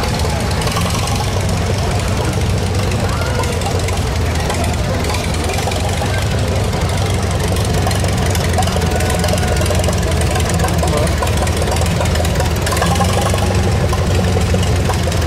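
A 1948 Farmall Model M tractor, rated at 31 horsepower, runs steadily at a steam power show in Sycamore, Illinois, giving a loud, continuous engine drone with a knocking beat and outdoor background noise, with no one talking.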